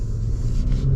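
A 2022 Acura MDX Type S pulls away with a smooth, low engine rumble, steady and close inside the cabin for a brief moment.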